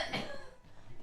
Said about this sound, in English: I'm coughing so much tonight.